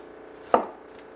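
A knife slicing through plantain at an angle on a board, a single crisp cut landing against the wood, close and alone.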